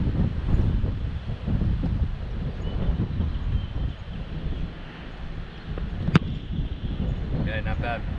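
Wind buffeting the microphone on an outdoor training field, a steady broad rushing roar throughout with one sharp thump partway through and faint voices beneath.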